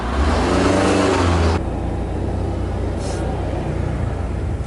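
A car engine accelerates nearby with a loud, rising rev for about a second and a half, then drops to a steady, quieter running hum.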